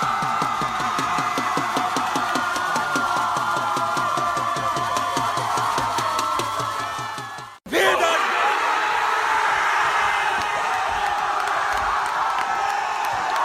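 A boisterous high school student section at a football game yells and cheers in rhythmic, chant-like bursts for several seconds. After a sudden break, a fresh wall of loud, sustained crowd roar follows.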